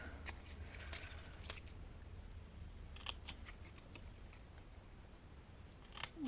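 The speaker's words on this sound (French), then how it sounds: "Ciseaux. Hop." Scissors cut paper for a handmade pink and gold card, a scattering of quick crisp snips and small rustles, close but quiet against a low background hum.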